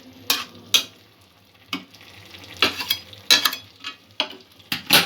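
Potato and spinach curry in a pan, stirred with a spoon: sharp intermittent scrapes and clatters over a quiet, low bubbling sizzle, close up.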